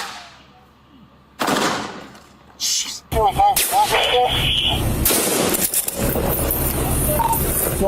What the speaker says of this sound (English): He's still shooting at us.